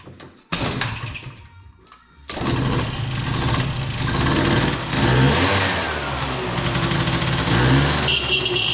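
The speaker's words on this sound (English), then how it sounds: "So just have to turn it on, get the key down here, and one kick." A single sharp kick-start clunk, then a pause before a small moped engine with its air filter removed catches and sputters into a loud, steady run with rising and falling revs.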